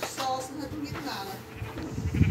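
A sheep in a Minecraft-style copycat video game gives a short bleat close by, mixed with a player's talk and game background noise.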